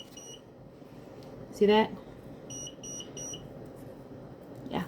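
A Procolored P13 DTF printer beeps during maintenance: faint repeated high-pitched beeps over a quiet background, with one short loud burst and brief speech near the start.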